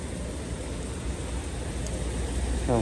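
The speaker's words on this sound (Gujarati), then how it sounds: "કામે જવું છે પણ ફૂલ વરસાદ આવે છે" Heavy rain pours down in a steady, dense hiss that holds throughout, with a brief tonal sound rising near the end.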